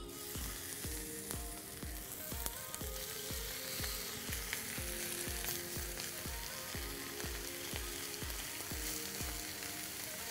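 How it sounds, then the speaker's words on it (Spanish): Skirt steak sears in a hot pan with a steady, loud sizzle. Regular rhythmic knocks and scrapes of a silicone utensil repeat about once a second throughout, and no one speaks. "se va a sellar la carne muy bien"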